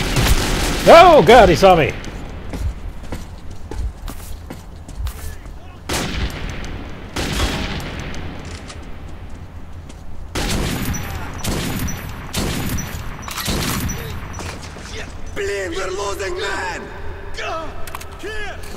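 Gunfire erupts in Metro 2033 as loud, scattered bursts and single shots ring out in close combat, interspersed with someone talking over the shooting.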